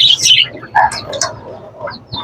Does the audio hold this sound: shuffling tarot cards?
no